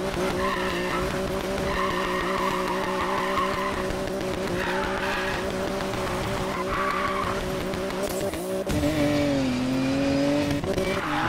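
A car in the racing video game Need for Speed Payback accelerates hard, its engine droning and rising in pitch amid skidding tires, loud and continuous with a sharp gear shift near the end.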